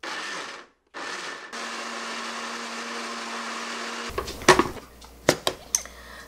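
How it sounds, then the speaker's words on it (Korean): A blender motor whirs steadily grinding soaked soybeans with water, stops briefly, then runs for a few more seconds before clinking and knocking sounds follow. "믹서기에다가요 아주 곱게 갈아줄게요."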